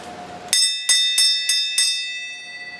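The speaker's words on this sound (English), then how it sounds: "we got just enough energy to ring the bell" A bell rung five times in a steady rhythm, each strike bright and ringing with a long, overlapping decay. The strikes are close and loud.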